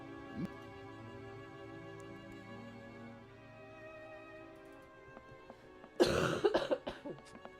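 In the video game Syberia, a quiet background hum is broken by a short burst of several harsh coughs near the end, close and loud.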